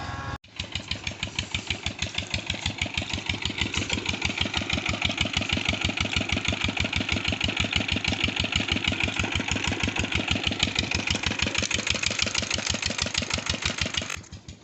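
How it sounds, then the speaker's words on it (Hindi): Engine idling steadily for the whole stretch after a brief start, with a fast even chugging pulse, close and loud, and no talk over it. "पीछे इंजन चला हुआ है"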